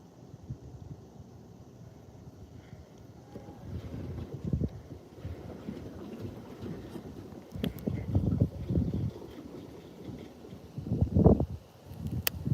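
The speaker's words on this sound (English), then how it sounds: "Of course, the wind picks up." Wind rushing outdoors during bass fishing, a low steady roar on the microphone that swells into stronger gusts partway through and again near the end, with no talking.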